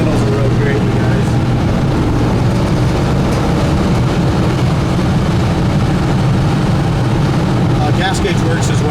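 A 1969 Impala SS 427 cruising at about 62 mph, heard from inside the car as a steady low engine and road drone that holds without a break.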